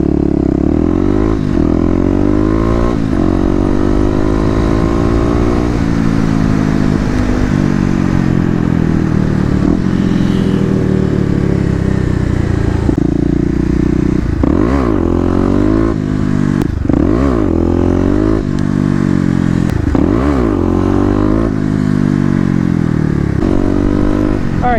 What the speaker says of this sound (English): Don't mind me here on my little motorcycle